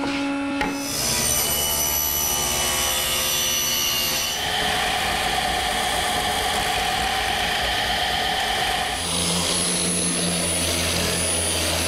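A power sander drones continuously on the wooden top of a paymaster's desk, a loud, close, steady whirring that shifts tone slightly as it moves, with no talking.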